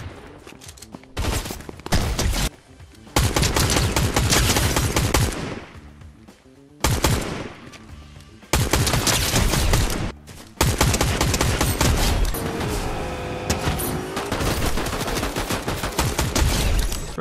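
Rapid bursts of auto shotgun fire in a video game, loud and close, coming in dense volleys separated by brief pauses, with nearly continuous shooting in the second half.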